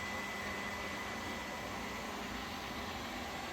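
A robot vacuum cleaner hums in a continuous, steady drone throughout as it runs a zigzag cleaning pattern in a kitchen, passing under an island, with no talk.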